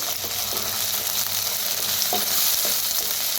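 Ginger garlic paste frying with eggplant in a pan, a steady close sizzle with a few soft stirring knocks scattered through.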